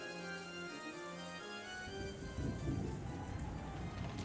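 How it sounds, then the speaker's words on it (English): Rain and growing wind in a stormy scene from the Umineko visual novel, a steady wash of rainfall with low rumbling swells that grow heavier midway, quiet and continuous with no voices. "The wind grew increasingly stronger and the rain turned into cold large drops"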